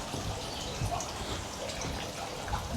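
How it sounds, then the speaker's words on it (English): A waterfall water feature in a deep pond runs continuously, a steady broadband splashing rush with no clear breaks and no talk. "George, can you stand just next to the water feature, waterfall thing"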